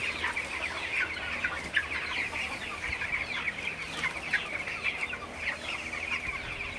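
Seventeen-day-old broiler chickens in a storm-damaged shed cluck and chatter continuously, with many overlapping calls at moderate volume and no talk.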